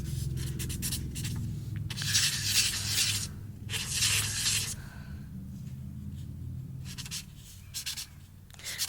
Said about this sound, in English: So I'm expecting this marker to skip.